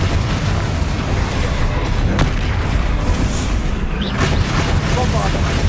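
Spell blasts in the Hogwarts Legacy video game go off as a run of deep booms and crackling bursts under dense game noise, over a few seconds.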